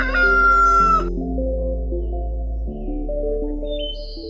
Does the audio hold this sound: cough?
no